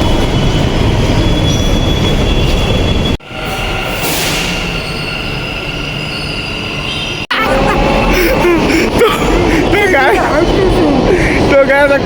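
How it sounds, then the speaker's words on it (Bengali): A Bengaluru metro train runs through the station with a loud, steady rumble and high wheel squeal, then a brief quieter stretch before the clatter returns. Voices murmur faintly underneath. "এই যে আমরা মেট্রো স্টেশনে এসেছি"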